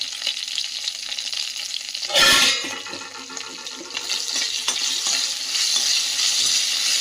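Cumin seeds dropped into hot oil in a pan that already holds fried green chillies, a bright splash of sizzle that settles into a continuous crackling hiss while being stirred.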